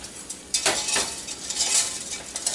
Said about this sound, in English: whisking everything together